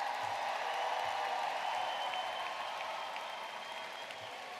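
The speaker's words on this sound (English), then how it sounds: "One big round of applause." An audience at a high school graduation ceremony applauds the class of 2026. The dense, steady clapping fills the hall and gradually eases off.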